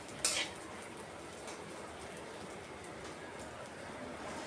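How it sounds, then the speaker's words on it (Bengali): Mung dal frying in a little mustard oil, giving a steady, quiet, close hiss of sizzling throughout, with a brief clink of stirring near the start. "মুগের ডালটা সামান্য সরষের তেল দিয়ে ফ্রাই করছি।"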